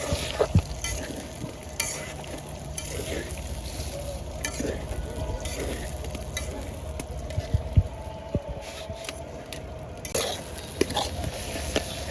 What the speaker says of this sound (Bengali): আস্তে আস্তে জাল দিয়ে আমি ডিমটাকে একটু জোর জোড়া করে বেজে নেব